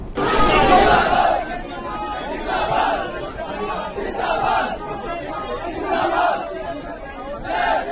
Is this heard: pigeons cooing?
no